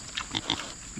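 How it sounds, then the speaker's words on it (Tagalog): Several short grunts from a piglet come in quick succession, fairly close, over a steady background hum with no talking. "Ang ating pong baboy na biik"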